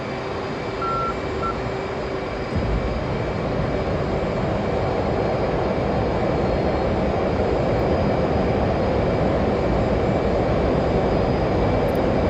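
A steady, loud roar of jet engines spooling up for takeoff in a DCS flight simulator, heard from the cockpit as a continuous broadband rush with faint tonal whines, rising slightly after a couple of seconds, no voices.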